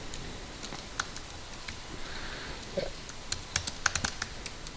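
Light keyboard typing while writing an email body, a scatter of soft clicks that bunch into quicker runs toward the end over a low background hiss.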